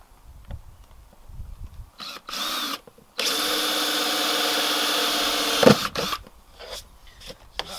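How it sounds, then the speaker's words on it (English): A power drill with a step bit whirs steadily for a few seconds, boring a hole close by, framed by short clicks and handling noises before and after. "in the kit, you get this cool little trick bit to drill out a bigger hole"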